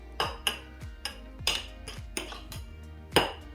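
A spoon clinks and scrapes against glass canning jars while levelling homemade strawberry salsa, a series of light, close taps and short scrapes at an uneven pace.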